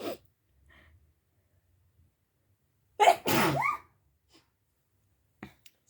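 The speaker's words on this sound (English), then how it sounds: "I'm probably gonna sneeze." After a quiet stretch, a single loud, close sneeze erupts with a quick inhale before it, then silence with a few faint clicks.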